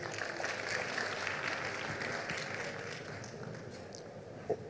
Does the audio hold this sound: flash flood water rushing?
no